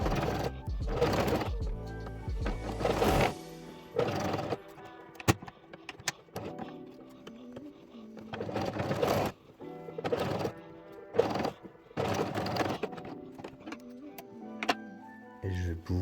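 A sewing machine stitches a fabric basket for makeup-remover wipes, leaving a 4–5 cm opening, in several short bursts of close mechanical whirring and ticking with pauses between runs.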